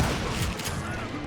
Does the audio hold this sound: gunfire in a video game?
yes